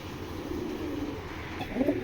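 Foreign pigeons from a pedigree breeding pair coo softly and low, a few murmuring calls rising near the end over faint background noise.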